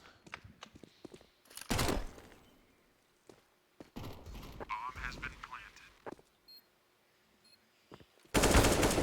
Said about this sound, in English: he gets to hold this line, gets shot through the box, but he still hits the headshot on Flames